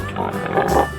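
A short, low pig oink sounds in a 3D animal slide video game, a single brief grunt lasting about a second against a steady game backdrop.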